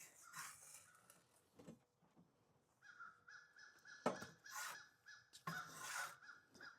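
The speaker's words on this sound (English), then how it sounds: "I don't know what those crows are talking about" Several crows caw outdoors behind a front porch, giving harsh, repeated calls in irregular bursts, some louder than others, over quiet surroundings.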